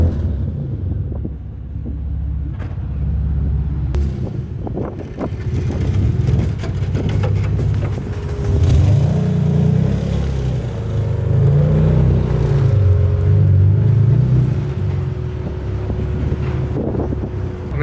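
The exhaust of a bagged Nissan 370Z revs loudly nearby, its drone rising and falling in several sweeping pulls, with heavy wind buffeting over the whole recording.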